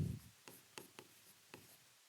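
Pen or chalk writing on paper or a board during a maths lesson: a few quiet, crisp strokes and ticks, spaced irregularly, close and faint against near silence.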